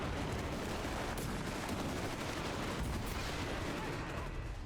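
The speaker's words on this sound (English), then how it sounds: "It's a heavier mortar." Heavy mortar and artillery fire in a video game rumbles as a steady, dense roar of distant blasts and rolling booms, with no clear individual impacts standing out.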